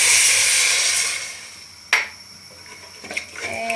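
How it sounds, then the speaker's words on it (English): A cup of water poured into onions and spices sizzling on high heat in a pan, a bright hissing rush that fades, followed by sharp clinks and scraping of a utensil against the pan. "I'm going to add 1 cup of water"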